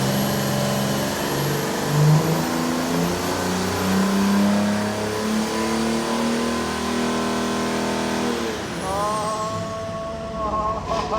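A Mercedes OM606 diesel in a Land Rover crate engine build runs on a Superflow dyno, a loud steady drone that climbs under load, then drops back to a rougher idle; brief voices are heard beneath it.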